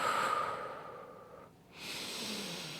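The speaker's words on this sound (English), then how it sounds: "You could hear me breathing" Slow, audible breathing close to the microphone: a long airy inhale fading out, a short pause, then another breath.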